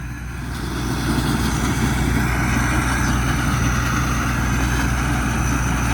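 A rice combine harvester with a turbo fitted runs its engine in a loud, steady, close drone, a low heavy rumble with a whooshing upper hiss and no talk.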